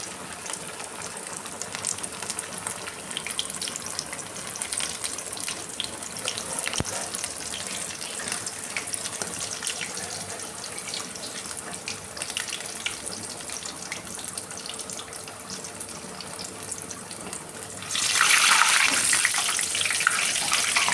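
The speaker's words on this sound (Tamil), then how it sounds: "எண்ணெய் நல்லா காஞ்சிருச்சு ஒன்று ஒன்றா போட்டு பொறிச்சு எடுக்கலாம்" Country chicken leg pieces deep-fry in hot oil for a chicken 65 dish, giving a steady close crackling hiss throughout that grows louder and brighter near the end, with no talk.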